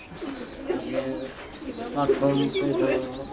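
Pigeons on a pigeon farm coo close by in soft, rolling phrases, with a voice talking over them.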